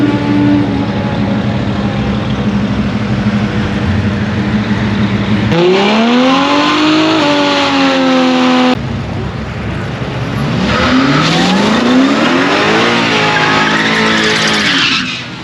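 A Ford FPV 335GT accelerates hard in a loud, close run, its engine note climbing steeply, dropping at a gear change, then climbing again through second gear with a brief dip between pulls.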